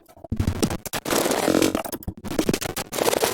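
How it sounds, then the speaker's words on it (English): Granular drum loops pushed through external effects into even glitchier drum sounds: a dense, distorted, crunchy wash of noisy bursts broken by abrupt dropouts, loud and continuous, with no talking. "I'm also going to show you how to use a few external effects to turn these granular loops into even glitchier drum sounds."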